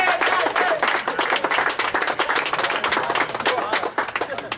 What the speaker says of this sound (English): the big round of applause is for these boys up here